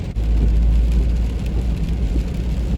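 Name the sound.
car driving in heavy rain with wipers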